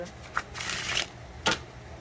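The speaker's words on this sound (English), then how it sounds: "my hands are too small to shuffle the entire deck" Riffle shuffling of a card deck: short papery bursts, a couple of quick riffles close by, with faint speech-like murmur underneath.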